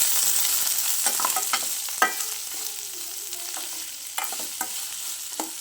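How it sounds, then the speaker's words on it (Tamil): Onions and green chillies sautéing with spices in a pan, steady soft sizzle with occasional scraping stirs and clinks of the spoon, close and alone without voices. "பச்சை மிளகா, வெங்காயம் போட்டு நல்லா வதக்கணும்."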